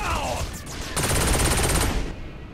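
Gunfire in the video game Saints Row IV: a dense burst of rapid shots fills the middle of the clip over a busy game soundtrack, with a little speech-like sound early on.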